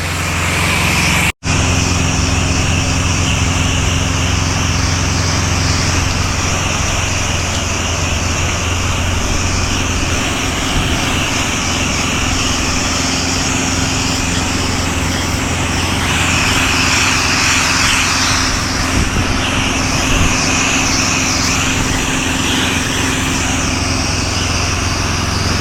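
A pressure washing rig's engine drones steadily and loudly while pumping water through the line during a church soft wash, with a constant mechanical roar and no speech.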